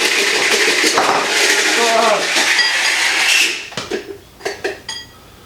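A Bamix hand blender with its four-prong attachment bashes sun-dried tomatoes and garlic in a container, a loud clattering whir that stops, followed by several sharp knocks and taps, with a voice speaking over it.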